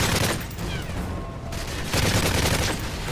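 Dense, continuous gunfire from the Modern Warfare 3 Spec Ops missions: overlapping bursts of automatic shots, loud and close, with a brief thinning in the middle before the barrage picks back up.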